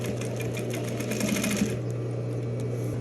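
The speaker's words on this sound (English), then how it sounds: "we're gonna stitch just to the right side of the stitch line here." A sewing machine stitches a welt pocket with a close, steady motor whir and rapid needle clatter, which stops partway through and leaves only a low hum.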